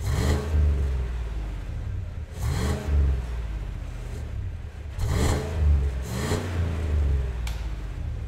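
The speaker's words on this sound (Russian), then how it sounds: "вот вам, пожалуйста, как звучит штатный выхлоп" A Cadillac Escalade with a 6-litre V8 on its stock exhaust revs repeatedly, about four throttle blips rising and falling over a deep idle rumble, close and moderately loud.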